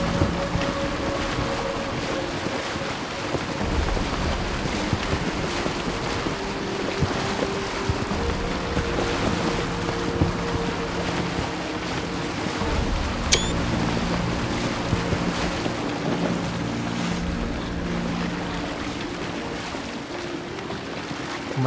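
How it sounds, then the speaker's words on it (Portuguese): Motorboat speeding under turbo boost in the video game Assassin's Creed Origins, a steady rushing wash of engine, water and wind noise that holds at a constant loud level throughout, with no talking over it. "o turbo do barco nesse jogo aqui é absurdo"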